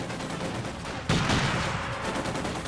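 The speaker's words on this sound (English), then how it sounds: "Still a lot of machine guns on those bastards." Gunfire in a Company of Heroes 2 battle, faint scattered shots at first, then a sudden loud burst of rapid fire that keeps rattling on with no talk.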